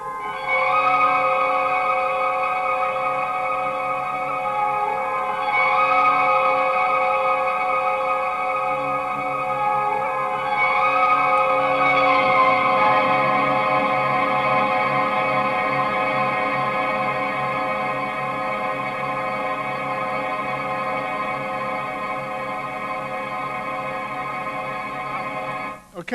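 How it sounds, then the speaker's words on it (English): Layered, sustained guitar tones fed into a looping reverb swell and overlap into a dense, continuous wash, with new notes entering every few seconds and ringing on without decaying. "now I've got the loop in the reverb"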